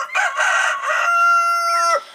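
Chickens of mixed ages give loud, close calls: a few short clucking bursts followed by a long, drawn-out crowing cry from a young rooster that bends downward at the end.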